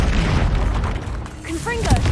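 The Incendio fire spell in Hogwarts Legacy bursts with a loud, rumbling whoosh of flame, followed by brief tonal magical chimes.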